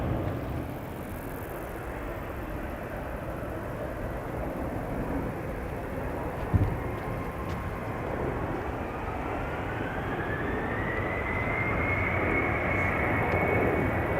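A jet aircraft departs Amsterdam Schiphol Airport on a calm, windless day, its engines a loud, steady broadband roar close by, with a rising whine building toward the end.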